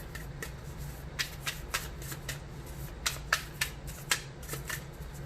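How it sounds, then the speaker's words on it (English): Tarot cards being cut and handled by hand, a run of soft papery riffles and slaps in irregular bursts, close but quiet against a low background hum, with no talking. "I think I have to cut the deck."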